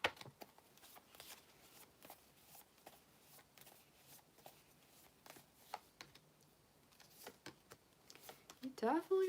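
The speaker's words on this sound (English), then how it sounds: "I always like to shuffle these real good too." Quiet, close tarot card shuffling with scattered crisp riffles and taps, then a person starts speaking near the end.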